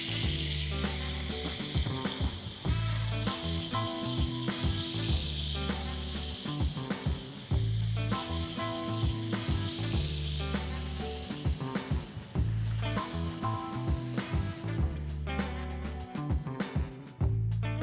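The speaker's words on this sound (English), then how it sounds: "Let's warm up some bread." Pav bread warming and sizzling in a pan at an Indian street food stall, a continuous loud sizzle layered with rhythmic clanking and scraping of utensils over a busy background, no clear speech.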